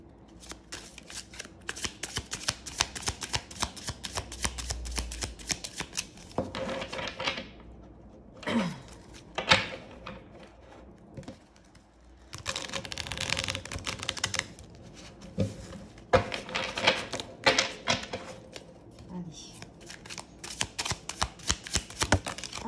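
Dark Wood tarot cards being shuffled by hand, close up, in repeated bursts of dense riffling and slapping with short pauses between, no talking.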